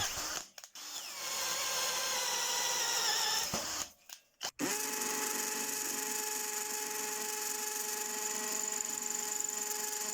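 A Parkside PSBSA 20-Li cordless drill whines at high speed, up to 1650 rpm, boring small holes in wood or metal. A steady motor drone runs, cuts off briefly twice, then restarts and holds a constant pitch to the end.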